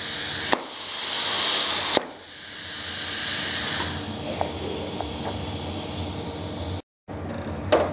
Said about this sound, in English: press the palm down, that'll pilot the main valve and operate the air ram.